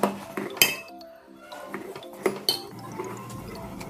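A pot of cottonseed milk with rice flour being stirred, a utensil scraping and clinking against the metal sides in irregular knocks and clinks, close and fairly quiet.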